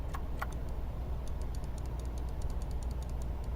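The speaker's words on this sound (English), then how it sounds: "Clicking" Quick light clicks of a mouse or keys while editing a train simulator route, a few spaced clicks early then a rapid irregular run of soft taps over a low steady background hum.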